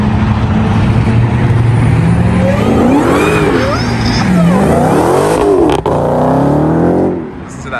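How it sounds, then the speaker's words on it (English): A car engine revs hard with a rising supercharger whine layered over it, loud and close at a car meet, while people talk over the roar before it fades at the end. "Listen to that turbo whine, the supercharger whine."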